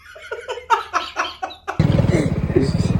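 A motorcycle engine on a village road bursts into a loud, close, throbbing idle after a man's short spoken line, its rapid low pulsing continuing steadily to the end.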